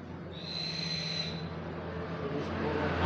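A single faint, thin high-pitched call of a tame scops owl, a drawn-out whistling note heard once over quiet background hiss.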